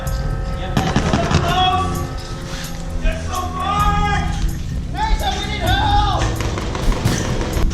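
Rapid video-game gunfire in Grozny Insurgency crackles in repeated sharp bursts throughout, with players talking excitedly over the shots.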